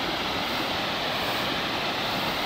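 Rushing water from a waterfall tier at Khao Chamao National Park, Rayong, a constant broadband roar, close and loud, with nothing else over it.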